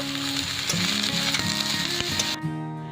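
Snake gourd frying in a pan with garlic and chillies gives a steady sizzle, with spatula stirring scrapes and clacks near the mic; a tonal hum runs underneath, then the sizzle cuts off and it quiets near the end.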